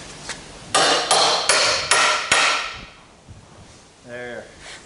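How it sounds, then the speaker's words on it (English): Five sharp, evenly spaced hammer blows knock clamped wood on a trailer tailgate, loud and close, followed by a brief lighter tap and a short spoken word. "take a hammer and just knock this away"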